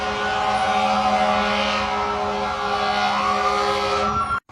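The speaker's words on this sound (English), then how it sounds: "hold on, there's a siren" A loud, steady siren wails continuously, with sustained harmonic tones and a gliding pitch, over traffic rumble; it cuts off abruptly at the end.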